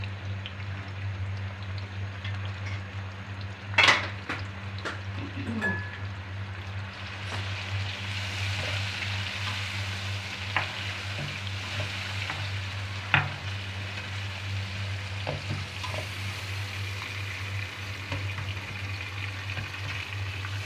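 Tomatoes and spices frying in a reduced amount of oil for a spicy bitter gourd and mutton curry, giving a steady low sizzle with a few sharp clinks and stirring scrapes, no talking.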